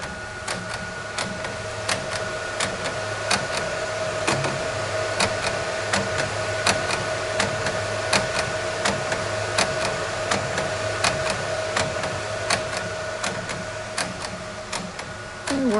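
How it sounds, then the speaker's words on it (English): Ricoh RI4000 printer laying down a color layer on a tote bag, a steady mechanical hum with regular ticking clicks from the print head moving back and forth, close and continuous with no talk. "now our printer is doing the color layer."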